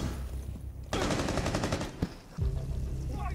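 Bursts of rapid gunfire in the tactical shooter game Rainbow Six Siege crackle loudly for about a second and a half, followed by a sharp single shot and continued lower rumbling action.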